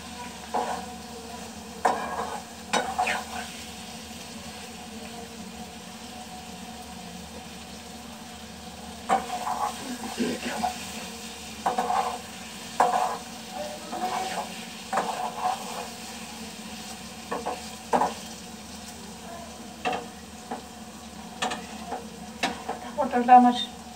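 Pointed gourd (potol) sizzles as it fries in a pan, stirred with a utensil in repeated scraping bursts over a quiet, constant crackle, close and moderately soft.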